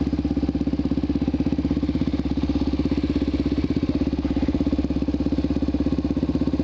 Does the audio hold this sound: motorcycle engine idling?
yes